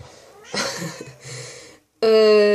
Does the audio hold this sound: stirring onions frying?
no